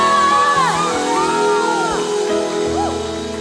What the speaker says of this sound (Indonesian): Sekali lagi saya mau mendengar tepuk tangan yang paling meriah dari Bapak Ibu. Sama-sama sorakan haleluya.